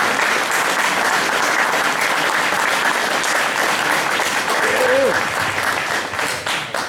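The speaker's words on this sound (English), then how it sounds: "please stand up so we can applaud you" Audience applause for political candidates at a general meeting, steady dense clapping that fills the room for about seven seconds and fades slightly at the end, with a brief voice cutting through near the close.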